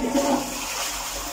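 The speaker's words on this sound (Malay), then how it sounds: "Ok, kita try flush." A sitting toilet flushes with a loud, close rush of water, a brief higher gurgle at the start and then a steady wash of running water, heard alone without talk.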